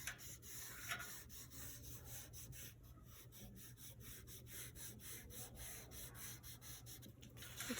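Chalk pastel is rubbed along a border on paper, producing faint, quiet repeated scratchy strokes in a steady rhythm throughout, close up with no talking.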